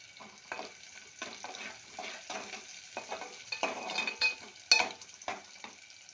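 Ivy gourd frying in a pan, a soft sizzle under repeated scraping strokes of a spatula stirring the pieces, close and uneven in rhythm.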